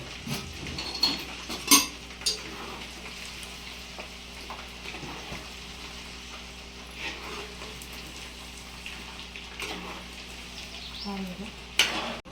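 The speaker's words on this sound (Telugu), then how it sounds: "లైట్గా జీలకర్ర, కొంచెం లైట్ బ్రౌనిష్ కలర్ వస్తే చాలు." Cumin seeds sizzle and crackle in hot oil for a mango pickle, a steady frying hiss with occasional louder pops and stirring clatter near the pan.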